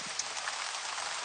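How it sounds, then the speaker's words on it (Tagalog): Steady rain pattering on a hard surface in Colorado, a dense even hiss with no voices. "Sana titila ang ulan."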